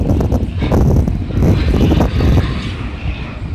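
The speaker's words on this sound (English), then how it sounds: "They have to wait on the freight train to come through." A freight train rolls through, a loud, steady broadband rumble of rail cars holding close for several seconds before easing slightly at the end.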